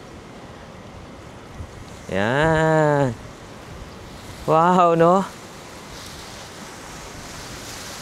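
Strong wind roars steadily across the microphone in Iloilo City, Philippines, while a person speaks two short remarks over the gusty noise.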